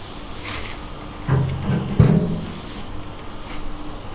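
A trowel or scratcher drags through a fresh sand and cement scratch coat of render, making soft gritty rubbing and scraping strokes up close, with no voices.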